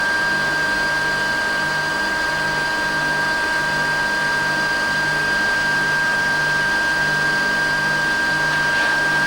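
A tensile testing machine stretches a specimen with a continuous, steady mechanical hum and a high whine, loud and unbroken throughout.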